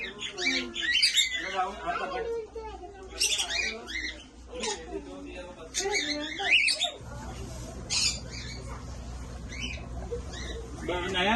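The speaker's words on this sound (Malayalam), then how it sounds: "ഇവിടെ കിളികളൊക്കെ ഉണ്ട് കേട്ടോ" Pet birds in a new home squawk and chirp in short, sharp bursts, close and fairly loud, repeating irregularly over a low steady background hum.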